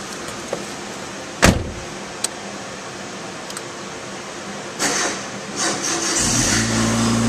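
Car engine cranking and catching after a battery charger hookup, a few sharp clicks early on, then the motor turning over and settling into a low steady idle that grows louder toward the end.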